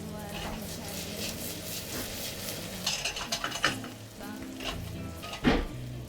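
Potato noisettes fry in a pan for rack of lamb, a steady close sizzle that carries through with a few sharper pan and utensil knocks near the end; a voice talks over it.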